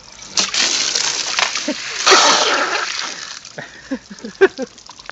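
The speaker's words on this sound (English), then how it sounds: "once it's full, it shoots that back out like a hose" Water sprays and splashes back out of the anode port on an RV hot water tank, with bursts of hissing spatter and sloshing, close and fairly loud, alongside a few brief voice sounds.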